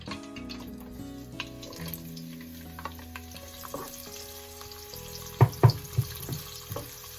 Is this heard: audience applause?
no